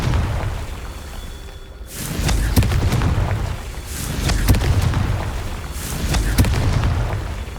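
Confringo blasting spell explosions in the Hogwarts Legacy video game, three booming blasts spaced a couple of seconds apart, each a broad loud burst with crackling sparks and a rumbling tail.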